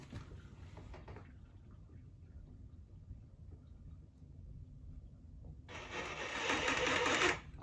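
A Sawzall reciprocating saw cuts through a 3-inch toilet drain pipe, with a dense, loud buzzing rasp in two bursts, a short one at the start and a longer, louder one near the end, with a quieter stretch of low rumble between.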